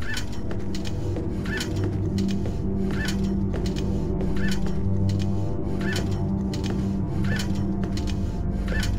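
Caged birds in the video game Indigo Prophecy squawk and honk in a steady repeating rhythm, loud and close over a constant droning background.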